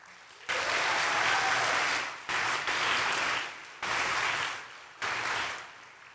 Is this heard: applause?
yes